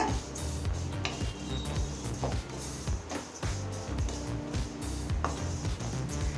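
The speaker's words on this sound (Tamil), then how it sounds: "இப்போ சிகப்பு அவலை நல்லா வறுத்துக்கலாங்க." Red flattened rice (aval) dry-roasting in a pan, with a continuous scraping, rustling stir of the grains and frequent metallic clinks of a ladle against the pan, close and busy throughout with no speech.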